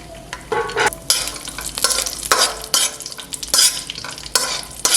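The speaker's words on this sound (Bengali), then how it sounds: "কিশমিশটা দেওয়ার পর 1 মিনিটের মতো ভাজলেই এটা রেডি হয়ে যাবে" Cashews and raisins fry in oil in a pan, a steady crackling sizzle broken by repeated louder bursts of stirring and scraping, close and alone without talk.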